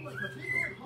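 Pet Hahn's macaws give brief, thin whistling calls indoors over a low background hum, with possible faint voices underneath.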